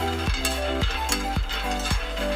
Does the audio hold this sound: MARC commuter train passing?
no